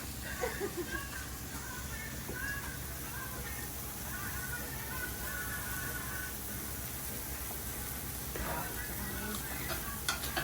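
Burger and steak cooking at home for a birthday meal, a steady soft sizzle and hiss with faint clicks and light background chatter.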